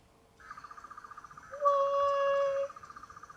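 A toy sonic screwdriver gives off a warbling electronic whine, pulsing at first and then shifting to a brighter, steadier tone for about a second before cutting off, close by with a faint rhythmic ticking underneath.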